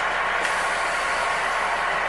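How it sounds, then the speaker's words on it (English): A truck tractor's air brakes release with a steady, loud, broad hiss of escaping air lasting about two seconds, close up with no speech. "I'm going to inspect the tractor brakes by releasing the trailer brakes."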